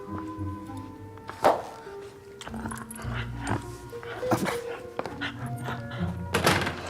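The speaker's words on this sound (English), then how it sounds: "We've established you're a completely useless guard dog." An indoor guard dog gives several sharp barks and whimpers, mixed with dull thuds and knocks in a room.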